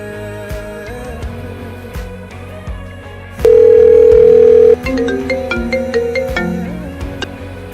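A telephone busy tone sounds after a recorded busy message, with a single loud steady tone holding for over a second amid quieter background music.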